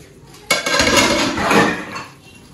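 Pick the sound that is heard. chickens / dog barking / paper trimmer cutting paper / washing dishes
washing dishes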